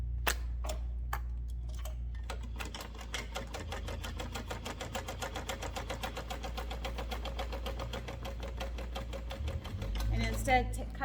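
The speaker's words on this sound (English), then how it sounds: "then we will sew these down at 1/2 inch seam allowance" Sewing machine stitching the seams of an everyday tote bag at a half-inch allowance, a brisk even run of ticking needle strokes close by after a few separate clicks, with a low motor hum underneath.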